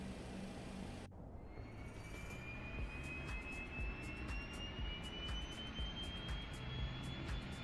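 An MD-11 auxiliary power unit in Microsoft Flight Simulator spools up after a sharp start, its steady turbine roar joined by a thin whine that climbs slowly in pitch and holds, with faint clicks above.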